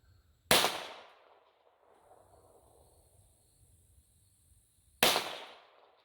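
Two sharp, loud .22 pistol shots from a Smith and Wesson 22A-1, about four and a half seconds apart, each with a short decaying echo over quiet outdoor background.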